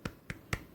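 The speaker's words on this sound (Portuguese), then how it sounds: "Palmas." Three sharp hand claps spaced about a quarter second apart, close and fairly quiet, with no voices.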